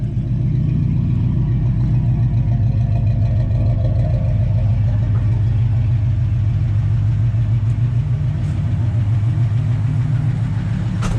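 A 1981 Ford F100 pickup with a 289 V8 idling loudly up close, a deep steady rumble with an even throbbing pulse and a slight rise in revs partway through, no voices.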